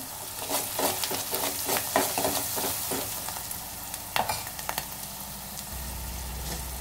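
Brinjal and tomato fry with turmeric in hot oil, giving a steady close sizzle punctuated by rhythmic spatula stirs and scrapes against the pan, with a low hum rising near the end.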